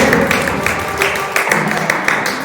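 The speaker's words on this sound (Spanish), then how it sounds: "Dale un fuerte aplauso al Señor" A church congregation gives a loud, strong round of applause to the Lord during a worship service, a dense, continuous clapping texture with rhythmic bursts throughout.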